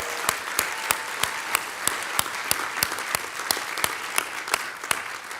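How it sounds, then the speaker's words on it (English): A graduating class at the SIPA Class Day ceremony is applauded, a steady, even wash of many hands clapping at moderate volume, with no voices over it. "Yes, you deserve that applause."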